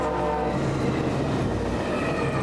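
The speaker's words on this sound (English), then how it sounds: "I keep hearing these trains in the background" At the Nevada Northern Railroad in Ely, Nevada, a train rumbles steadily and loudly with a low droning tone, heard alone without talk.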